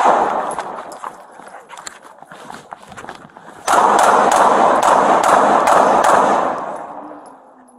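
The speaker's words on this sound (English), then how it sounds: "Shots fired, defender down." A police gunfight erupts in a sharp burst of rapid gunshots and loud impacts, first scattered and then dense and sustained for several seconds before tapering off, with chaotic background noise.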